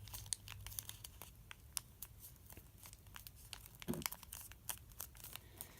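Origami paper is folded and flattened by hand while shaping a ninja figure, making faint close crinkles and soft creasing rustles with a few sharper crackles.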